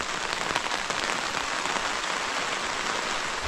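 Steady, dense rain hissing and pattering on surfaces at a mountaintop campsite at night, constant and even throughout with no voices.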